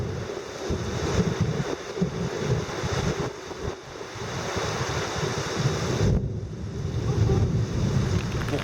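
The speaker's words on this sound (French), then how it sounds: "les grains sont plus fréquents et surtout de plus en plus forts" Strong gusting wind squalls roaring continuously around a sailboat at anchor, with surging gusts and sea noise, loud and sustained with no speech.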